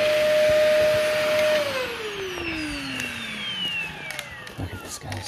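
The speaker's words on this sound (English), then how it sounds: "only thing I don't like about this particular vacuum" Vacuum cleaner working over a super dusty carpet, a loud close roar with a steady high whine that slides down in pitch after a second and a half as the motor winds down, leaving a softer rumble.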